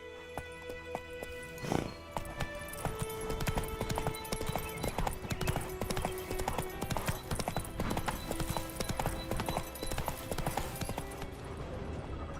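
Hooves of the horse Roach in The Witcher 3 beat a rapid, steady galloping clip-clop throughout, with a brief snort or whinny early on and game music underneath.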